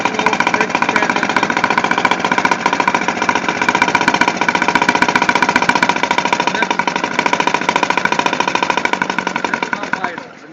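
An LP gas-fueled engine idling, a steady dense mechanical chatter with rapid regular firing knocks, loud and close for about ten seconds before cutting off at the end.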